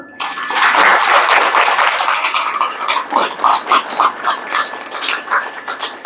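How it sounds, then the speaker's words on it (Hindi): A large audience at a spiritual talk applauds loudly, a dense wash of clapping that gradually settles into a rhythmic, pulsing beat of many hands clapping together. "मंजूर है तो बड़े जोर से ताली बजाना जरा"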